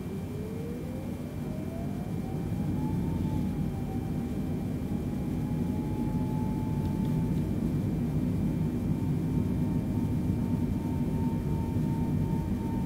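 A Boeing 747 in Flight Simulator 2020 at full takeoff throttle: a loud, steady jet engine roar with a rising tonal whine that climbs and then levels off, constant and unbroken, with no talking.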